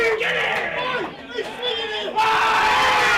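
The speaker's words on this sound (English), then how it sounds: "the Willaston crowd going off their chops. You can hear that through the microphone." Football crowd at Willaston Oval cheering and roaring during a BL&GFA match between Willaston and Tanunda, loud and sustained with whoops and shouting, swelling to a fuller roar near the end, with a commentator's voice over it.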